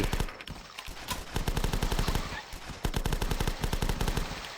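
Automatic UMP submachine gun fire in the video game The Last Stand, rapid sustained bursts of sharp, evenly spaced shots rattling nearly nonstop with brief pauses between strings.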